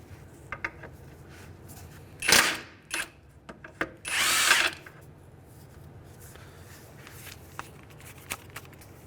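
An impact wrench on a 19 mm lower ball joint nut of a 2003-2011 Honda Element, heard as two short, loud bursts of hammering with light metallic tool clatter between them.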